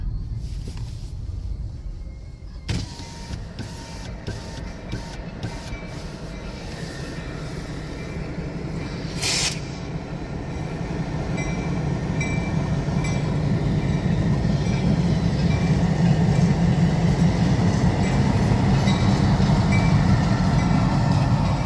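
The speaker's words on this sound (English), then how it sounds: "this Indiana Harbor Bell switcher is rescuing that train" An Indiana Harbor Belt switcher locomotive moves a stalled train past nearby with a rising, steady roar and rhythmic rail clatter, a few sharp bangs early on, and no talking.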